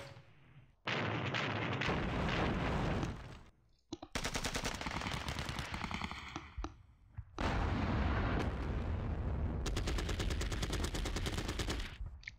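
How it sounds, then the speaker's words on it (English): Heavy support guns fire in a Normandy battle from the war game Panzer Battles, loud dense volleys of rapid shots and booming blasts in long, sustained bursts separated by brief pauses. "That's one heavy support gun there."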